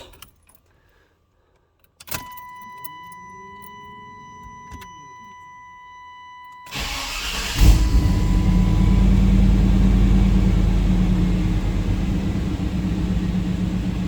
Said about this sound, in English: we will start it up and see how it'll idle